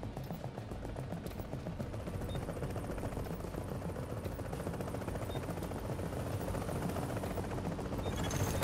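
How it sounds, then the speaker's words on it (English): A helicopter arriving for extraction in the video game The Division, its rotor chop drumming steadily and growing louder amid bursts of rapid gunfire. "Chopper is inbound."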